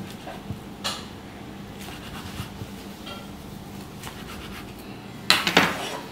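Food is cut into pieces on a board before frying, giving soft, scattered knife taps and scrapes, then a brief, louder clatter near the end.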